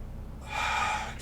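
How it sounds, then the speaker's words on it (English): One long, deep breath drawn in through the nose during a yoga pose, a steady airy inhale lasting close to a second, near and clear. "Breathe in deeply."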